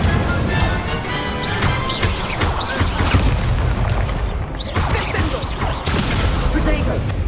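Fire spell casting in Hogwarts Legacy, with repeated booming, crashing combat effects layered densely over game music and a talking voice throughout.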